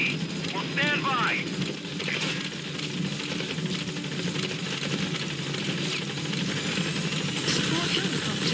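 A support helicopter arrives in Metal Gear Solid V, its steady rotor drone and engine hum holding for the whole stretch, with a radio voice speaking over it.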